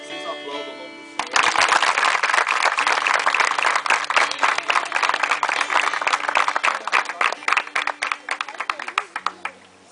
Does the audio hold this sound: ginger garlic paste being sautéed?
no